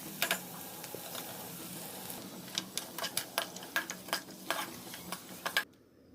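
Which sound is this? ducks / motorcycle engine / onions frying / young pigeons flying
onions frying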